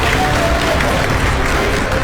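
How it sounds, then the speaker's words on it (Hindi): Applause fills the mission control room during the Chandrayaan-3 Vikram lander's descent to the Moon, a loud, dense and sustained wash of clapping from a large crowd. "Lot of applause indicates that till now the performance has been nominal."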